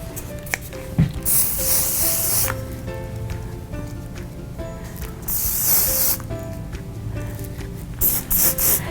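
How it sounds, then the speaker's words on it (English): Davines Perfect Hairspray is sprayed onto long hair in several short, close hissing bursts with pauses between them, and a quiet background hum runs throughout. "I'm gonna put a little Perfect Hairspray on there"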